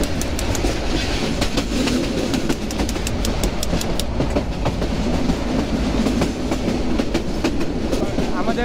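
Tista Express passenger train running on the rails between Dhaka and Dewanganj in winter, a steady loud rumble with continuous clickety-clack rhythm of the wheels throughout.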